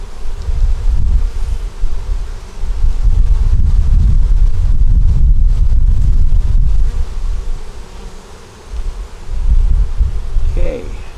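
A dense, low buzzing of many honeybees hums up close around a hive, swelling and fading with some rustling and wind noise.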